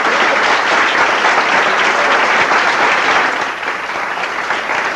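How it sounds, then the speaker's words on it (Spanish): Loud, sustained applause from a church congregation, a thick continuous wash of clapping that holds steady and eases slightly toward the end. "Démosle un aplauso a nuestro David."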